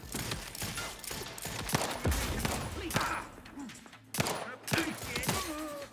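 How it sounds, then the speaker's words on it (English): Grenade blast and gunfire in The Outer Worlds 2 sound as a flurry of sharp shots and bursts spread across the clip, with combat noise layered under a talking voice. "He threw a grenade."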